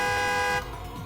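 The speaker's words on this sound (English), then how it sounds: "The honking of a horn." Car horn honks once in the Steins;Gate Elite video game, a steady tonal blast about half a second long, clear and alone before fading into quiet background.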